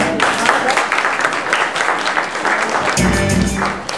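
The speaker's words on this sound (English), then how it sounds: "Clap your hands for him one more time" Audience clapping for a performer at an arts event, a loud sustained burst of many hands close by, joined near the end by a low thump and a tonal sound.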